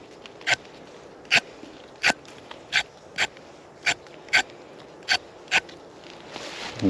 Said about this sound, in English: Sharpen your carrot.